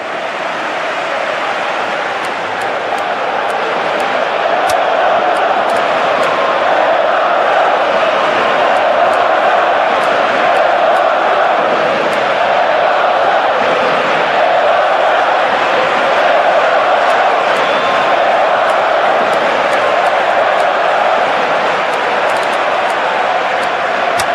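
Stadium crowd in the football game PES 2018 during Spain versus Russia, a loud sustained roar of massed voices with rising shouts and whoops, continuous throughout.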